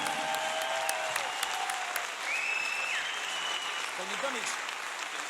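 An audience applauds a bassist at a live music session, a steady spread of clapping with a voice talking over it.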